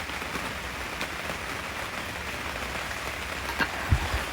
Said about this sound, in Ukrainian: Дощик у нас, можна чути дощ в палатку